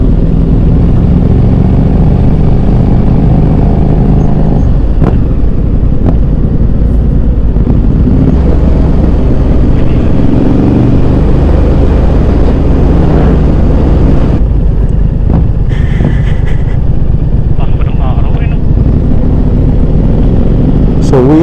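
Continuous loud engine drone and wind rush from a Triumph motorcycle ridden at about 30 mph, close to the rider, with slight shifts in pitch as the engine speed varies.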